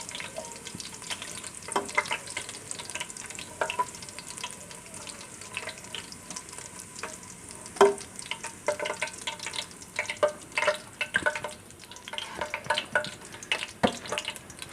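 Garlic frying in a pan to a medium brown, with a continuous close sizzle broken by frequent stirring scrapes and clatters that come and go over about fifteen seconds.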